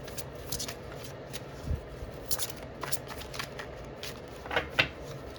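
A deck of tarot cards is shuffled by hand in quiet, close riffles and slides, a series of soft papery bursts and flicks that come in uneven clusters with no talking.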